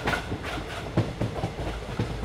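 A train running along railway tracks, loud and close, with a rhythmic clickety-clack of wheels over rail joints and a rumbling undertone throughout.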